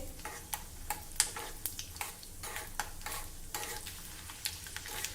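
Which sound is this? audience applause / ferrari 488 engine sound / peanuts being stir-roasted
peanuts being stir-roasted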